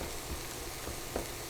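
Wild mushrooms, porcini among them, frying in a pan with onions and garlic for a risotto, a continuous soft sizzle heard close with no talk.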